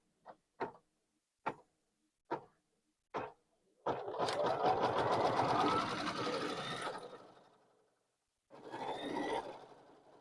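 An embroidery machine stitches a luggage tag: a few sharp separate clicks, then a long burst of steady rapid stitching, a short pause, and another brief stitching run.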